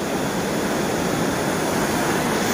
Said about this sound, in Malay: tak ada kedengaran bunyi lain dekat sini kecuali bunyi air ni aja, tengah mengalir dengan deras.